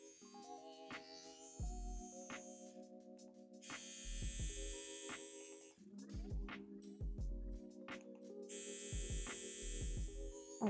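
InkIn Hover FM tattoo machine switches to dotwork mode, giving a close, continuous electric buzz that changes pitch in repeated cycles, with no talk.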